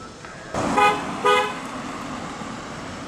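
A horn near an old railroad line in Delta, Pennsylvania gives two loud toots in quick succession, the second slightly longer, over quiet outdoor background.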